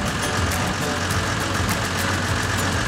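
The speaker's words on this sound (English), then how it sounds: "dump truck is being loaded for transport." Dump truck's heavy diesel engine idling loudly and steadily at a construction site while being loaded for transport, a constant low drone with broadband rumble and faint intermittent clanks.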